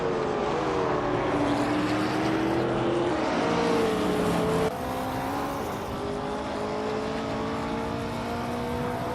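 Racing cars, including a 1970 Dodge Challenger, roar loudly and continuously, engines droning and shifting pitch as they rev and run together without a break.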